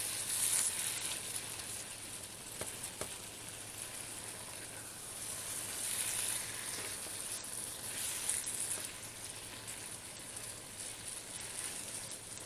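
Eggplant and bell pepper sizzle steadily in a pan, a faint, even crackle of frying that continues without pause throughout, with soft clicks now and then.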